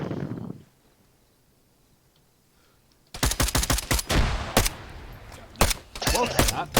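Gunfire in the video game Arma 3, a loud burst of rapid automatic shots with some heavier single reports, starting after a few seconds of near silence and continuing to the end.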